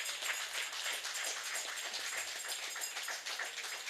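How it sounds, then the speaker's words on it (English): A townhall meeting audience gives a round of applause to a first-time speaker, steady dense clapping heard fairly faint and somewhat distant, unbroken for a few seconds. "for a first timer, a young lady, man, give her a round of applause."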